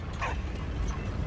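A dog in the World War I video game Valiant Hearts: The Great War lets out a single short bark with a brief yip, over a low ambient game rumble.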